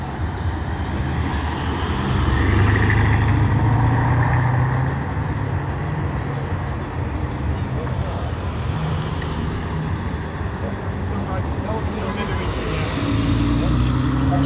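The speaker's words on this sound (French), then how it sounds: "Petite Porsche 911." A Porsche 911 sports car drives past outdoors, its engine a steady, loud rumble that swells and holds for several seconds, with people talking excitedly in French over it.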